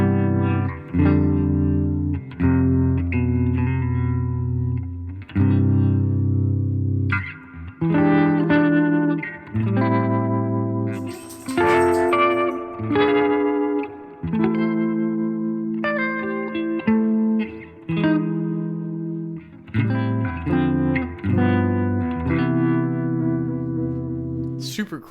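Electric guitar played through Vibratone and Enchanter effect pedals on a Fender Tone Master Pro amp, a long run of loud, close chords and melodic phrases with swirling modulation and spacious reverb, no talking over it.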